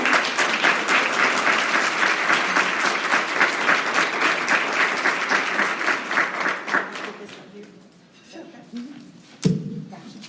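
An audience applauding at an honors event as a woman comes forward, dense clapping from many people that fades out after several seconds, followed by a brief thump and a voice.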